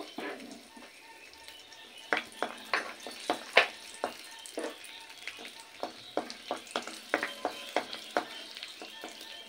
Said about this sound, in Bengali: এবার অল্প একটু কাজু আর কিশমিশ আমি এই তেলে নেড়ে নেব